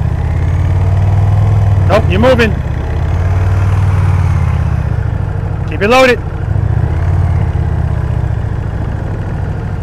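A motorcycle engine putters steadily at low revs during slow-speed riding practice, a continuous near rumble while an instructor talks over it.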